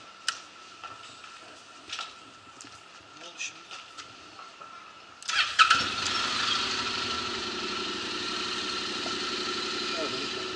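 Honda NC 700 DC Integra motorcycle engine starts after a few ticking clicks, then settles into a steady close idle hum.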